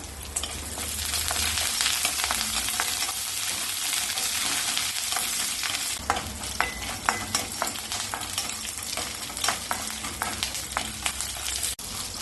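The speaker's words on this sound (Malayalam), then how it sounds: "1 ടീസ്പൂൺ ഇഞ്ചി ചെറുതായി മുറിച്ചതും 2 പച്ചമുളക് മുറിച്ചതും കുറച്ച് കറിവേപ്പിലയും ചേർത്ത് വഴറ്റാം." Loud, continuous sizzling of ginger, green chillies and curry leaves sautéing in a pan, with a spoon scraping and stirring at intervals, close up and with no voices.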